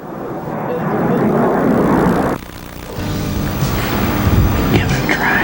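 A low-flying jet aircraft passing over northern woods during a bowhunt: a loud, broad roar that dips briefly, then swells again and keeps rumbling, with someone talking over it.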